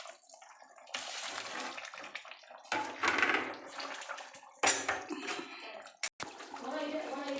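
Pieces of bhola fish go into a boiling mustard curry, giving bursts of watery splashing and bubbling that rise and fall, with a person talking over them.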